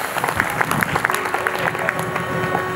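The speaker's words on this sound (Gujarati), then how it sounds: "એમને પુનઃ આપણે તાળીઓથી વધાવીએ." Audience clapping at a Shakotsav religious gathering, a brief burst of dense applause from a crowd that swells and then thins out over a few seconds.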